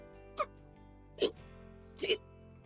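A voice imitates a skeleton's hiccups during a Halloween storybook reading at a library, three short sharp hiccup sounds spaced evenly over soft background music.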